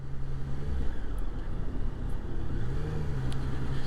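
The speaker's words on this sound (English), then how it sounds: "It's just the stop and go traffic through here." Steady motorcycle engine hum in stop-and-go city traffic, with low rumble and gentle rises in revs while riding at moderate speed, constant and close with no talking.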